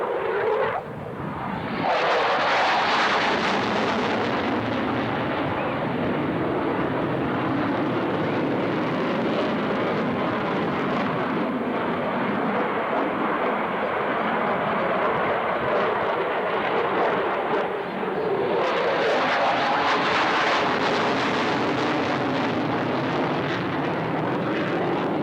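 A jet aircraft flying a display at the Shoreham airport airshow roars loudly and continuously, the engine noise swelling and shifting in pitch as it passes and turns, with wind buffeting throughout.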